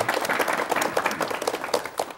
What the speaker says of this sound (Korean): 여러분 우선 박수로 환영을 해주시면 대단히 고맙겠습니다